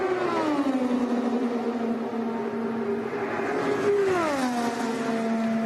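An IndyCar race car screams past at Indianapolis Motor Speedway during 2018 Indianapolis 500 practice, a loud, sustained engine whine whose pitch drops as it goes by, then a second pass sweeps down near the end.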